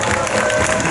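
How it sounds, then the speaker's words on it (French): Crowd applause and cheering at a medieval jousting show in Angers, a dense, steady wash of clapping from a large outdoor audience, loud and close throughout the brief moment. "on l'applaudit bien fort"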